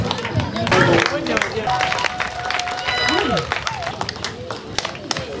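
Outdoor crowd at a 2024 Marché Mokolo Canada donation event claps and cheers amid lively chatter and background voices, with uneven, busy clapping throughout.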